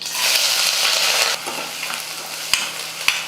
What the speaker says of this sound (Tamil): இந்த வெங்காயம் சேர்த்துக்கிறேன்.